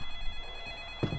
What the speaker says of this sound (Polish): Znowu telefon dzwoni?